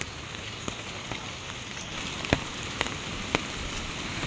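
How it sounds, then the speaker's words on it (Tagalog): Rain falls steadily outdoors near a creek, a soft continuous hiss with a few sharper drips standing out, fairly faint and with no voices. "Dito po'y kalahating araw lang po uminit ay ngayon po'y naulan na naman."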